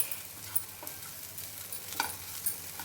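Spice powder being stirred into okra frying in a pan, a quiet continuous sizzle with occasional light scrapes and taps of the spoon.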